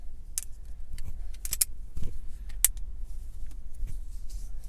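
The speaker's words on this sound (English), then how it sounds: "Let's fold it closed" A CRKT RTD folding knife is folded closed, producing a few small, sharp metallic clicks and light rattles close by over a low background hum.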